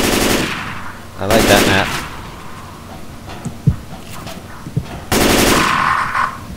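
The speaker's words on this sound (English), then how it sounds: "Just shoot everything in your hands." Bursts of automatic gunfire in Left 4 Dead 2 on a Silent Hill custom map, with several loud, sustained volleys separated by quieter gaps holding a few single shots, while a player talks briefly between bursts.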